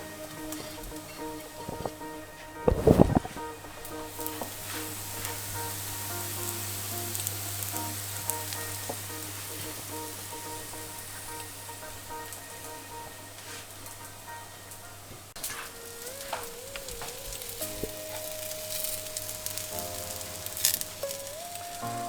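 Breadcrumb-coated meatballs dropped into a pan with glassy fried onion and garlic, a sharp clatter as they land, then a steady, close, soft sizzle of frying.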